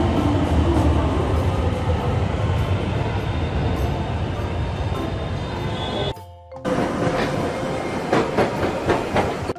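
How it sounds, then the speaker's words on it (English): A tram rolls past close by with a loud, steady rumble and rhythmic wheel clatter, briefly cut off midway, then resuming with repeated clicking wheel beats. "Tramway."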